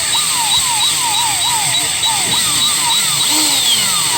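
A power drill grinds steadily through seized EGR bolts on a 6.7 engine, close and loud, its whine rising and falling in repeated cycles as pressure changes, with a continuous high-pitched tone throughout.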